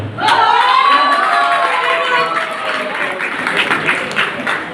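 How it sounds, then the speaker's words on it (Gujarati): A group at a cast get-together bursts into loud, close applause, with excited voices and cheers rising over the clapping at first, then the clapping carries on while the shouting fades. "તાળીઓ પણ ડબલ હોવી જોઈએ."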